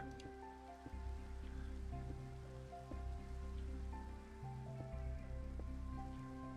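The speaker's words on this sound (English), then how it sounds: "It's raining." Steady rain in a video game patters continuously on a surface, with faint droplets over a low droning background hum.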